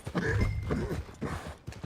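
Horse hooves clip-clopping under a rider in Red Dead Redemption 2, a steady close trot with a brief whinny-like tone layered over a busy low rumble.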